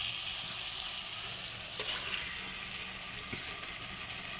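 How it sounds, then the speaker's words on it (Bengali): Marinated chicken frying in a pan of spiced masala, a steady close sizzle and bubbling throughout with occasional stirring clinks, no talking. "এবার চিকেনটা ভালো করে কষে নেব"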